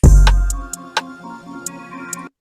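A short electronic drum pattern: a low kick followed by a few sharp, evenly spaced snare hits over a faint tonal background.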